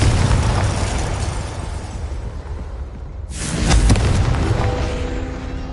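A Confringo fire spell explodes in the Hogwarts Legacy video game, a loud sudden burst partway through that swells and rumbles away amid steady battle noise.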